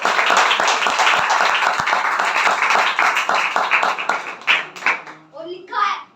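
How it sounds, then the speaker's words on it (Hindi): A church congregation at a sermon bursts into dense, vigorous clapping for several seconds, which then thins out as voices begin speaking near the end. "एक बार जोरदार तालियां"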